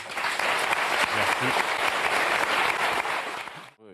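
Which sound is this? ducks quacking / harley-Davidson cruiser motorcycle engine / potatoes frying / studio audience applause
studio audience applause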